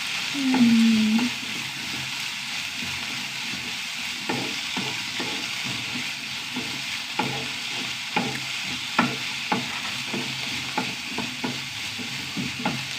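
Onions and curry leaves sauté in a pan, giving a steady close sizzle. A spoon scrapes and stirs in repeated sharp strokes, with a brief squeak at the start and no talking.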